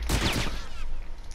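Hunting rifle fire in The Last of Us multiplayer, a sharp loud report followed by a short echoing tail, with no talk over it.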